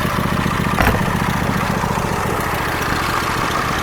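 Craftsman riding mower engine idles steadily, a loud, close, even rumble with a brief knock near the start, no voices.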